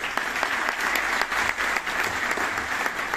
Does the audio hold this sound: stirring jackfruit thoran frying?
no